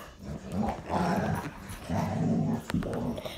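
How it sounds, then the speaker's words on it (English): Dogs growl in a playful tug of war, giving low, rumbling snarls in sustained bursts close by, with brief pauses between them. "My dogs are playing tug of war."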